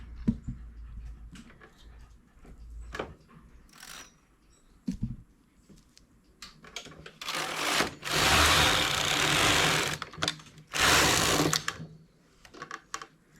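A knitting machine working English rib stitch for a bustier, with scattered clicks and clacks of needles and levers, then two loud sustained whirring passes of the carriage across the bed, close by with no talk.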